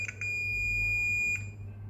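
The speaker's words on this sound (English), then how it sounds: "the other side, which was not beeping, is now beeping" A multimeter continuity test emits a sustained high-pitched electronic beep that rings steadily for over a second, with a couple of short clicks near the start and end.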